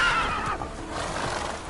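A horse gives a short, close whinny, a loud shrill neigh lasting under two seconds.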